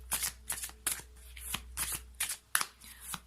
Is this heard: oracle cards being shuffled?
yes